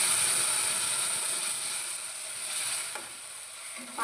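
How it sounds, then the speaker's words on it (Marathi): Water poured into a hot pan of vermicelli bursts into a loud sizzling hiss that gradually fades and settles within a few seconds, no voices. "आता आपण याच्यामध्ये पाणी ॲड करायचं."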